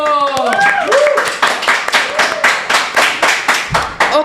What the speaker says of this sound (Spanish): Verdaderamente fuerte el aplauso.